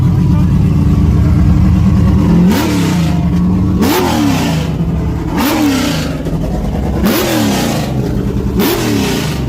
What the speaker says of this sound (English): coming up next we have a Pontiac Trans Am 4th generation